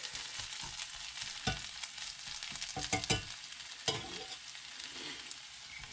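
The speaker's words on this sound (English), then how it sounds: "I'm gonna mix in my garlic and onions with the potatoes." Potatoes with garlic and onions fry in a cast iron skillet, giving a continuous close sizzle broken by several sharp scraping stirs and clacks of a utensil against the pan.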